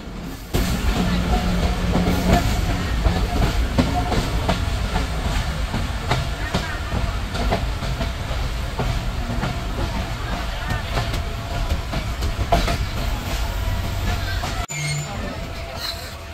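The Titumir Express rolls into Hili railway station on the Bangladesh–India border with a continuous loud rumble and rattle of carriages, while faint crowd babble mixes in before the noise drops off near the end.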